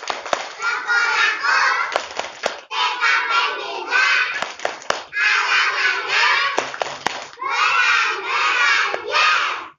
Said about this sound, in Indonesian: kita sambut dulu Bapak Juli juga Bu Zaro dengan tepuk alamat sekolah